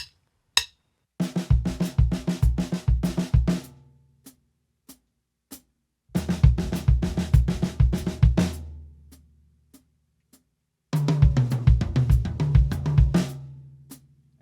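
Drum clinic demonstration of a snare rhythm with bass drum added, three bursts of tight, close snare strokes layered over deep kick thumps, separated by short pauses and a few soft isolated taps.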